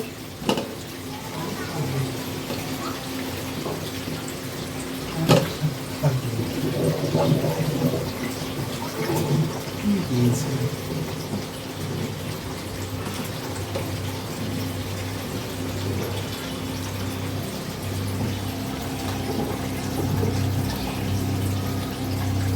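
Beef tripe is rinsed under running water, a steady splashing flow with occasional knocks and handling noises, while a low background hum continues and people talk nearby.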